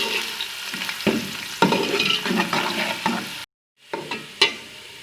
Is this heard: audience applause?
no